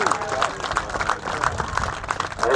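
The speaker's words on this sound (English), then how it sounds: "Just give them a big round of applause." A crowd claps at a motorcycle drag racing event, a steady, moderately loud wash of applause with a faint rhythmic pulse, and a voice talks over it.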